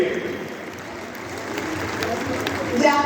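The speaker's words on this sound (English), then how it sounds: "I would like all of you to put a big round of applause for Pakistan Taekwondo Federation." Crowd applause at the closing ceremony of a Pakistan open international taekwondo championship, a steady wash of clapping from a large audience that swells slightly near the end.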